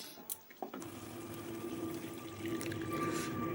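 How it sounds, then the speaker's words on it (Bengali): Water poured into a pan of simmering cabbage kofta curry: a couple of clanks, then a steady splashing pour that gradually grows fuller and louder, heard alone and fairly quiet. "এবার দিয়ে দিচ্ছি পরিমাণ মতো জল, দিয়ে ঢাকাতে খানিকক্ষণ ফুটতে দেবো।"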